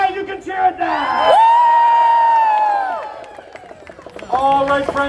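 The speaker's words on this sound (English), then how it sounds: "You can cheer at that!" A live audience at a stage stunt comedy show cheers and whoops loudly, the crowd noise swelling after a second and holding steady before easing off and rising again near the end.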